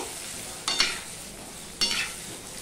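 Salted potato pieces fry in a pan with a soft, steady sizzle. Two quick stirring scrapes rise above it, and the whole thing is fairly quiet and close.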